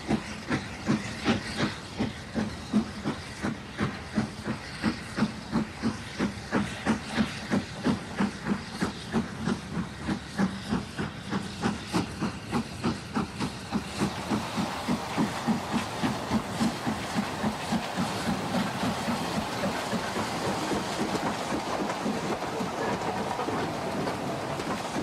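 Model steam locomotive Excalibur running on a model railway, with a steady rhythmic chuffing that gradually quickens, then settles into a smoother continuous hiss and rumble as it moves along.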